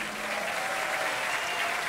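A live concert audience gives steady, dense applause, a broad continuous wash of clapping with no break.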